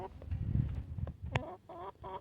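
Silver Wyandotte hens on a homestead clucking close by in short, uneven bursts of rising calls, with soft rustling between them.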